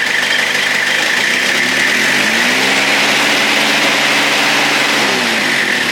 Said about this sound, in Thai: ลองเร่งเครื่องว่าไฮจะพุ่งไหมนะครับ